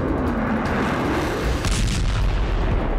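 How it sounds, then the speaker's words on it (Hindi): Missiles and bombs fired during a military exercise make a dense, continuous rumble of heavy booms and blasts, loud and unbroken, with no talking. "पहले देख लीजिए इस युद्धाभ्यास के दौरान कौन कौन सी मिसाइल और बम को आजमाया गया।"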